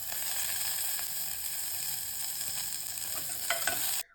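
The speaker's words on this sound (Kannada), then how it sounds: "ಒಂದು ಪ್ಯಾನ್ಗೆ 2 ಸ್ಪೂನಷ್ಟು ಎಣ್ಣೆ ಹಾಕ್ಕೊಂಡು ಸಾಸಿವೆ, ಕರ್ಬೇವಿನ ಸೊಪ್ಪು, ಹಸಿಮೆಣಸಿನ್ಕಾಯಿ ಹಾಕಿ ನೀಟಾಗಿ ಫ್ರೈ ಮಾಡ್ಕೋಬೇಕು" Mustard seeds, curry leaves and green chillies fry in about two spoons of oil in a pan, making a steady close sizzle with faint crackles that cuts off abruptly near the end.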